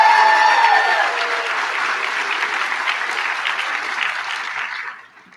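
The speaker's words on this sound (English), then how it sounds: "Now you can applaud." Sustained applause from a commencement audience, steady and fairly loud for several seconds before tapering off quickly at the end, with a few whistles or cheers near the start.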